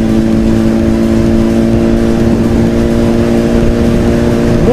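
Cars in a traffic jam in Syzran, heard from a motorcycle: a loud, steady engine drone with tonal humming, close and continuous, no talking.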